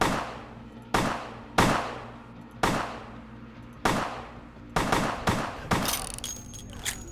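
Pistol shots ring out in Vampire: the Masquerade - Bloodlines, a string of about ten sharp, loud reports with echoing tails, spaced unevenly before quickening into a rapid burst near the end.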